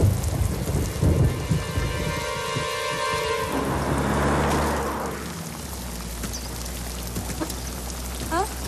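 Rain begins to fall in a thunderstorm, a steady pouring hiss and spattering drops over a deep thunder rumble that swells and fades, with faint background sounds.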